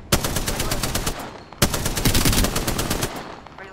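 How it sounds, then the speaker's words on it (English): Rapid automatic gunfire in a battle royale video game, two loud sustained bursts of dense rattling shots, the second starting after a brief break. "I'm getting shot at."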